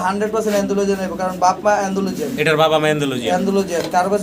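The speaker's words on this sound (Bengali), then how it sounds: "দর্শক ভিডিও স্ক্রিনে আমরা একবার পেয়ার মডার্না কবুতর দেখতে পারতাছি" Modena pigeons coo in soft, repeated throaty phrases close by, with someone talking over them throughout.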